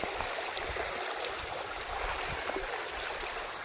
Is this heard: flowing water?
yes